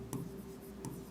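Two short scratchy strokes of writing on a board in a lecture on atomic structure, soft and close over a low steady room hum, with no talk.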